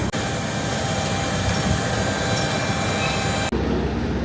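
Wizz Air jet engines at an airport give a loud, steady roar with a high whine, heard close. The sound cuts to a quieter background rumble near the end.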